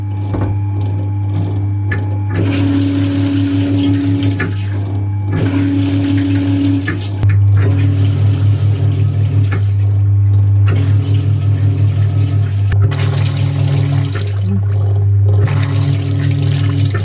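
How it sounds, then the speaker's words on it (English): A friction-driven water pump on a vintage washing machine runs loudly, with a steady motor hum and a rushing, splashing water churn that rises and falls in repeated surges, without speech. "inside the middle of the motor is the rubber wheel, which just touches, it's friction driven, and it will engage and the pump will function"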